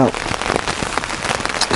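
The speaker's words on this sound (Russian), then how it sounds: "И идет дождь." Steady morning rain falls close by in a dense, loud patter of drops on a surface, continuous with no gaps and no thunder, at a riverside beach on a kayak trip.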